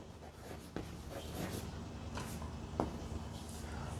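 Chalk writing on a classroom board during a physics lecture: scratchy strokes and taps in irregular bursts, fairly close, with a sharp tap near the end.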